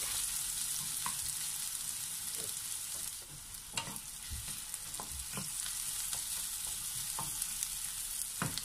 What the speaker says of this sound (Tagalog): we're going to saute first our chopped onion